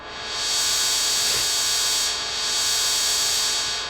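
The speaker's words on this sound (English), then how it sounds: "this kind of crackle, which is like a sort of vinyl noise" An Intellijel Cascadia synthesizer puts out a dense, vinyl-like crackling noise: a loud, bright, continuous hiss with a rough texture that swells slightly and holds for several seconds, with no voices.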